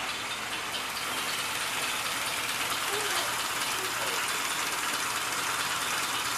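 A 1943 Jeep GPW engine, just back together after a head gasket replacement, idles with an even, continuous hum and faint knocking texture, moderately close and steady throughout.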